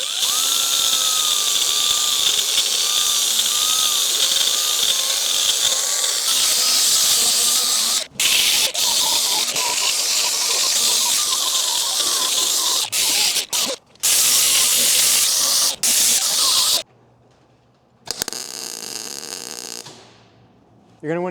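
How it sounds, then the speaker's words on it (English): Anti-spatter spray is applied to bare metal suspension parts before MIG welding, a loud close hiss sustained in long bursts with brief pauses between sprays. "You're going to want to use some anti-spatter spray on your bare metal parts to help them from getting MIG berries on them."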